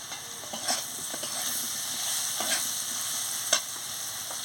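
Potatoes frying with chili powder in a pan for a Bengali cucumber and potato curry, giving a steady close sizzle with a few soft stirring scrapes and clinks, no voices.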